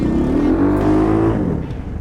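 A cheap Walmart tractor driving in reverse gear, its small engine droning loud and close with a steady tone that rises then sags slightly, no talking.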